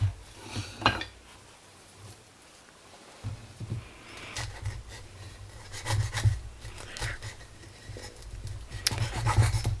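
A Kizer Mini Harpoon high-end edition pocketknife slices across several different surfaces, giving scattered raspy scraping and rubbing strokes that grow denser and louder toward the end, close and without talk.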